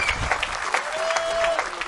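A festival crowd applauds at an outdoor slack key music event on Maui, dense clapping with scattered cheers and a few voices mixed in.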